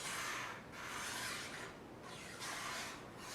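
A knife blade is drawn back and forth over a coarse 400-grit, 35-micron sharpening stone at the choil area, giving steady rasping strokes in a repeating rhythm, close and fairly quiet with no talk.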